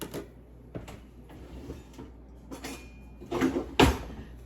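Sugar and pectin stirred together in a bowl for blueberry freezer jam, a spoon scraping and clinking against the dish in uneven strokes, with a couple of sharper knocks near the end.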